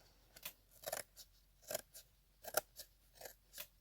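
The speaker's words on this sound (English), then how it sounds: "I'm just going to take my scissors and trim that away" Scissors snip through the paper of a hardcover book's cover in about eight crisp, separate cuts at an uneven rhythm, close by and fairly quiet with no voices.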